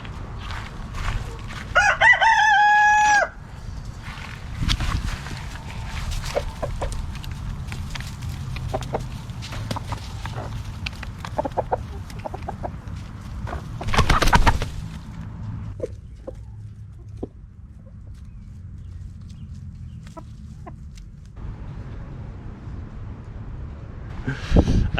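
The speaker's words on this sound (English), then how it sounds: "I feel kind of bad walking in on a chicken laying an egg." Chickens in an outdoor chicken run, with a rooster's crow ringing out early and scattered clucks and calls over steady background noise for about twenty-five seconds.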